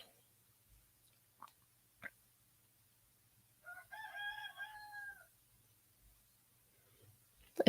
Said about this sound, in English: And the rooster.